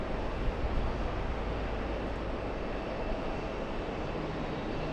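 A Delta Airlines heavy jet on its takeoff roll gives off a broad, steady engine roar. It sounds distant and continuous, with no breaks and no voices.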